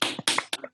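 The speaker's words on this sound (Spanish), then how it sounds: "ahora vamos a darle un aplauso" A few close, separate hand claps or taps come in quick, uneven succession, about five sharp bursts with brief silences between them, at the close of a talk during a film showcase session.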